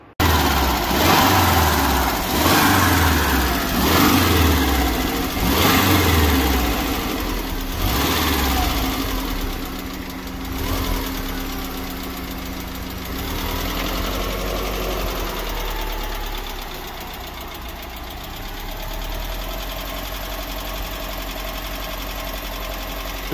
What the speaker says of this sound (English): it's idling pretty low right now and it kind of wants to die